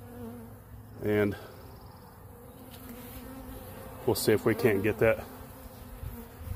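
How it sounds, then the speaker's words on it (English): Honeybees on the ground buzz in short bursts, one brief hum early and a cluster of buzzing passes later, under someone speaking quietly. "those bees will signal to those other bees"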